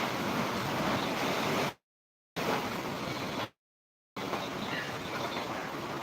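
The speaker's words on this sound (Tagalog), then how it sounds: "Ayan, pabugso-bugso na po ang hangin." Strong gusting wind from Typhoon Tisoy in the Bicol region, a loud broadband roar with surf-like rushing, broken by two short silent gaps.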